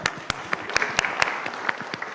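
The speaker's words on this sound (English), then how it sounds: "Let's give them a round of applause." A modest crowd at a village property assessment workshop gives a short round of applause, with distinct individual claps audible in a brief, fairly close burst.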